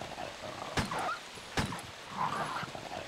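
Dogs growl and snarl in the Resident Evil video game on PlayStation 3, low rough vocal bursts over a constant noisy game soundscape, with two sharp impact hits cutting through.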